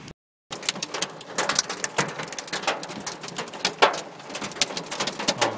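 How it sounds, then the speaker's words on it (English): Hail pelting a car during a sudden June storm in Brampton, a dense, steady clatter of hard impacts like rocks drumming on the body, loud and close after a brief silent gap, continuing without letup. "Oh man, my car is being pelted by hail. It's not cool. It's like rocks."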